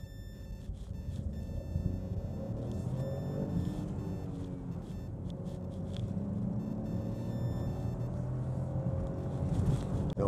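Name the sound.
Chevrolet Onix Turbo LTZ cabin noise, stopped on an uphill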